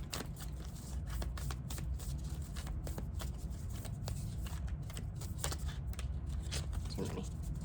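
A deck of tarot cards is shuffled up close in a quiet room, a run of quick soft riffling flicks and papery slaps repeating irregularly for several seconds.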